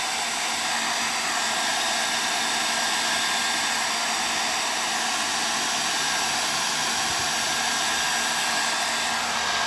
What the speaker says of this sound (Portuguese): eu trabalhando com o secador aqui